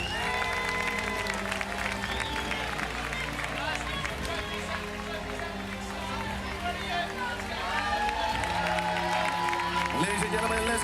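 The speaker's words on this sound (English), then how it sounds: "let's give them a big round of applause" A crowd at a BMX racing world championship claps and cheers for the boys' race winners, the applause mixed under a busy wash of music, babble and arena noise.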